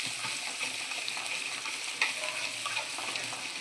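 Spices and crushed garlic thecha fry in a pan with a steady bright hiss, overlaid by soft stirring scrapes and one small clink; nobody speaks.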